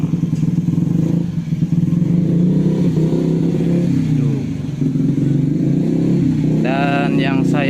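A mini rice mill machine runs at full speed with a loud, constant motor drone and rattling clatter throughout, and a voice speaks briefly over it near the end.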